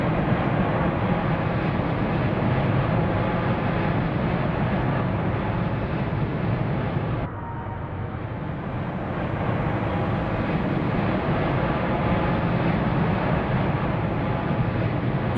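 Four-engine aircraft flyby in a video game, a steady, loud, continuous engine drone that briefly dips midway and then builds back up as the plane passes close.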